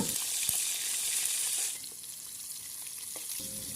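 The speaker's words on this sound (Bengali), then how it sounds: "আমরা চারাপোনা মাছ আর আমেরিকানের মাথাটাও ভেজে নেব" Small chara pona fish and fish heads frying in hot oil in a home kitchen give a loud, steady sizzle that drops to a softer crackle halfway through, with a brief clatter of utensils.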